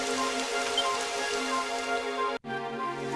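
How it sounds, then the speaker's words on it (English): Continuous rain patter in the video game Dragon Quest XI over a steady tonal background, with a brief sudden dropout near the end before the rain resumes. "It would have to go and start raining, wouldn't it?"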